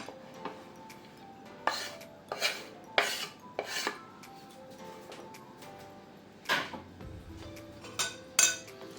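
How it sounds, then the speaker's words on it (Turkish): A spoon stirring dill into a chickpea and tahini salad in a bowl, with several distinct clinks and taps against the dish spaced irregularly, close and fairly quiet with no talking. "Aynı şekilde dereotumu da karıştırdım."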